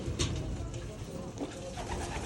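Pigeons cooing in a breeding loft of caged breeder and stock birds, soft repeated coos against a busy, close background of rustling and faint noise.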